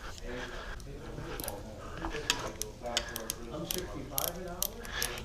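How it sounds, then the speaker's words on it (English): Small ratchet clicking on a red Velec build, quiet irregular ticking and clatter close by with soft handling noise. "we used a little ratchet here, ratchet doodle"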